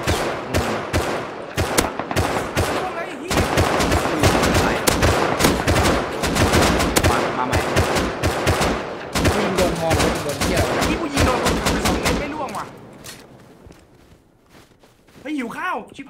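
Dense automatic gunfire and bursts of shots from the Rust video game, loud and continuous for about twelve seconds, then fading to quieter ambience before a short final burst; voices talk faintly underneath.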